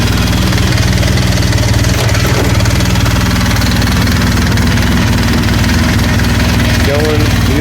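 A vehicle engine, its drive belt just replaced, runs at a steady idle throughout, close and fairly loud, with a low rumble and a short bump near the end as it is put in gear.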